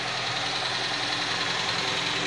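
A 1976 Hillman Hunter with its 1725 engine idles in a steady, even rumble, recorded close and alone with no voices.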